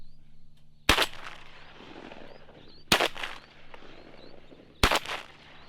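Three sharp, loud shotgun blasts roughly two seconds apart ring out during a teal duck hunt, each with a brief tail, over a quiet outdoor background.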